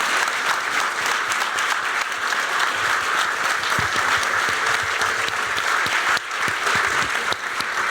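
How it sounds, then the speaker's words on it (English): Audience at a Black in Design 2019 design conference applauds a panel: a dense, steady round of clapping fills the whole stretch with no speech over it, holding fairly level to the end. "can we give a warm round of applause for our panelists and their responses today?"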